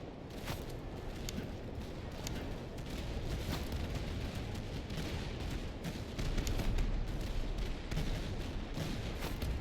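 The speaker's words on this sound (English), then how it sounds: "the enemy artillery shooting at us" Continuous distant battlefield rumble from Master of Command, enemy artillery booming steadily under a dense wash of musket-era gunfire, a constant roar across the whole span.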